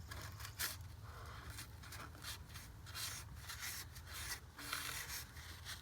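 A tool scrapes and rubs old gasket residue off the cylinder head of a Toyota RAV4 engine, producing quiet, close, repeated scratchy strokes at an uneven rhythm with no talking.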